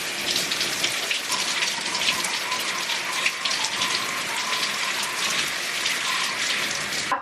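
Water runs steadily over hair while product is rinsed out, a close, continuous splashing hiss like a shower stream, without pause.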